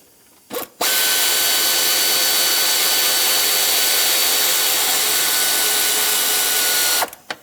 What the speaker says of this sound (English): Let's snug up this bolt here, and that's what's going to tension up our alternator belt.